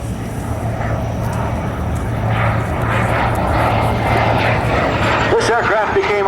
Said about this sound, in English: In a high-speed pass, the Seattle Jet, Spain's first jet airplane.